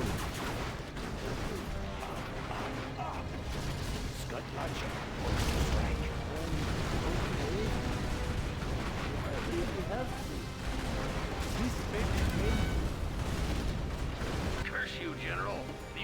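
Scorpion tanks and Scud launchers attack in Command & Conquer Generals Zero Hour, with a dense, steady din of gunfire, booms and explosions running throughout, swelling louder near the middle and end, with game voices mixed in.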